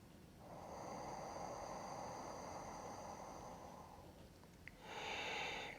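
Slow ujjayi breath drawn through a constricted throat, a soft oceanic hiss sustained for about four seconds, then a brief pause and a second breath starting, close and quiet with no talking.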